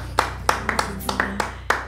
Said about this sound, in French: Bon, on est obligé d'applaudir, moi je peux pas faire autrement.